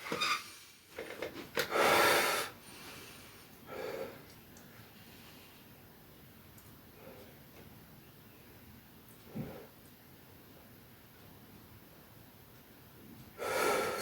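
Loud, forceful exhales and snorting breaths from a man straining through a Bullworker isoflow leg squeeze, coming in a few separate bursts with quieter stretches of steady breathing between them.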